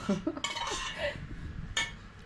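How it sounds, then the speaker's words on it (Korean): Ceramic plates clink and clatter as they are set down on one another, a couple of distinct knocks amid low room chatter. "접시 위에 접시를 두네요?"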